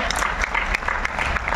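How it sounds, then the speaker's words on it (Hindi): Crowd applause at the Malhar Utsav classical music festival, a short stretch of thick, even clapping with a few sharper individual claps standing out. No voices are heard. "आप सभी की तालियों के लिए बहुत बहुत धन्यवाद।"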